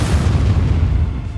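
Cannons fire in Roblox Build A Boat, a loud dense barrage of booming blasts merging into one continuous rumble with heavy low-end weight.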